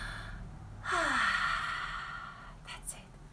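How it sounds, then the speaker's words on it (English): A single deep inhale, a long breathy rush that rises and then fades out over about two seconds, close and fairly loud against a quiet background. "Take a deep breath in."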